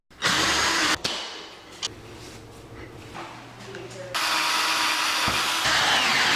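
A power drill drives screws into a wall to mount a board in a laundry room, giving loud whirring bursts that start and stop, with quieter handling noises between the runs.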